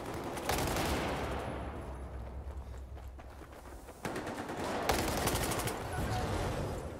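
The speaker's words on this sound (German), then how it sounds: "Oder kam zumindest gerade ein Schuss raus." Bursts of automatic gunfire in the multiplayer shooter Battlefield 4, rapid rattling volleys at the start and again near the end with quieter battle noise between.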